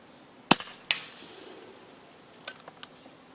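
An EDgun Leshiy air rifle fires pellets: two sharp, close, loud cracks about half a second apart, then a few faint clicks and taps.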